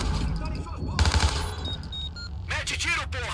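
Rapid bursts of gunfire in Watch Dogs 2 rattle repeatedly, loud and close, with sharp automatic volleys near the middle and end.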